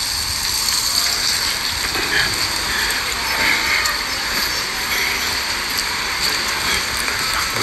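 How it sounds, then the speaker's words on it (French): Steady rain hisses outdoors on a street, an even wash of patter with no voices. "Il pleut, mais c'est pas grave."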